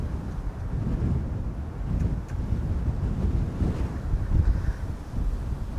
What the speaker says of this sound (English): still strong winds, and then tomorrow the wind is expected to be even stronger than today